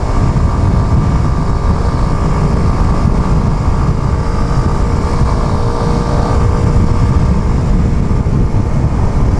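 A loud, steady single-cylinder motorcycle engine drones close by without a break, its rough low rumble filling the whole stretch.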